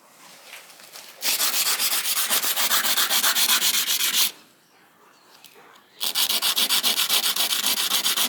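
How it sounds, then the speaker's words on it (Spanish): Close, steady rasping of sandpaper rubbed back and forth in quick strokes over a mosaic piece, pausing briefly midway before resuming. "a lijar esta pieza."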